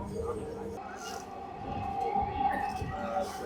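A metro rail train runs with a low, steady rumble and faint tonal whine, heard beneath ongoing nearby talking.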